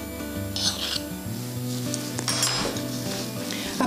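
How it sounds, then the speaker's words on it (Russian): An ice cream scoop rolls in shredded coconut, giving a close, continuous scraping, rustling rasp with a steady, gritty texture throughout. "Набираем шарик мороженого, опускаем в кокосовую стружечку"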